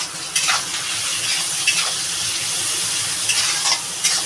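Snake gourd frying in a pan with dried shrimp, salt and turmeric, a steady close sizzle with occasional scraping stirs against the pan, no voices.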